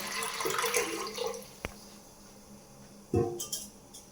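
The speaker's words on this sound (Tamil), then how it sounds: "வெள்ளை மொச்சை வேகிற அளவுக்கு தண்ணி ஊற்றுறேன்" Water pours into a pot for cooking white field beans: a soft rush at first, a quiet pause broken by a single click, then a short splash, faint and close by.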